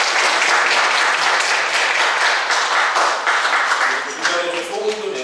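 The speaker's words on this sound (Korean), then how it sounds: "우리 박수로 축하합니다." A church congregation at a Sunday worship service breaks into warm applause, a dense, sustained clapping that fills the room before thinning and tapering off, with a few faint tonal sounds emerging near the end.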